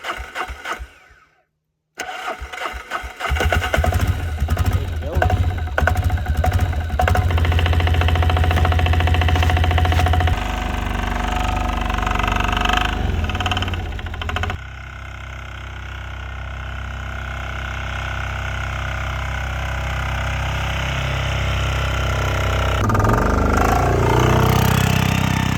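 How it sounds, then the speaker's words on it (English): An old diesel truck engine with a weak battery cranks briefly, then catches and settles into a loud, rough, steady running rumble that carries on close by for the rest of the clip. "start this old diesel up and get the plow back on it"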